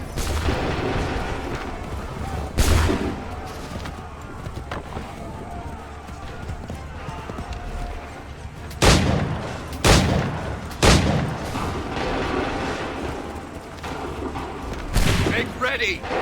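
Musket volleys crack out in Assassin's Creed 3, several loud, sharp broadside bursts spaced through a noisy battlefield ambience with shouted orders and voices around them.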